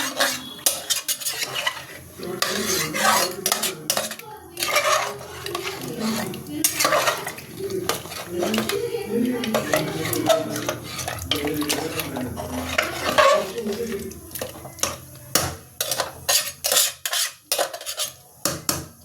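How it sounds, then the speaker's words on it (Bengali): Metal spoon stirring and scraping thick mutton curry stuck to the bottom of a pot, with repeated clinks and scrapes against the metal, close and moderately loud, no talking. "তলায় যে লেগে গেছে সেগুলো একটু ঠিক করে নিচ্ছি কষতে কষতে তো লেগে যাবেই তলায়"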